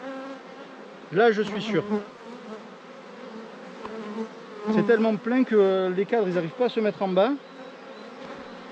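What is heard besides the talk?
honeybees buzzing in a hive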